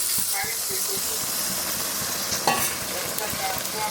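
Paneer curry simmering in a pan with steady sizzling and stirring scrapes, a brief splash of water added partway through, a voice talking over the cooking.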